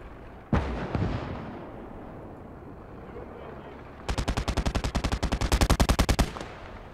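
A single loud shot rings out in the WWII video game Gates of Hell, then after a pause a rapid burst of automatic gunfire rattles off, sharp and close.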